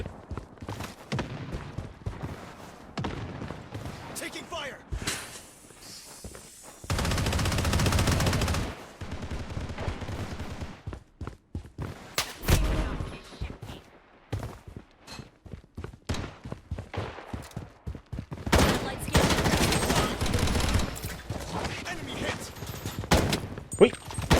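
Rapid bursts of automatic gunfire in the shooter game Project Blood Strike, with dense volleys and single shots broken by short pauses, some bursts loud and sustained, and a player talking at times between them.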